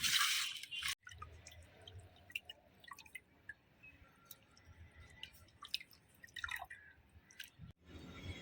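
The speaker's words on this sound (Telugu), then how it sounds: "శుభ్రంగా కడిగి పక్కనుంచుకోవాలి." Raw prawns being washed clean in water after being rubbed with turmeric, salt and lemon, giving soft wet drips, squelches and splashes that continue fairly close and steady, with a louder splash near the start and another near the end.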